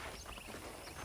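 Horse hooves clip-clop in a steady walking rhythm in the Western video game Red Dead Redemption, close and fairly quiet over a low ambient bed with no talking.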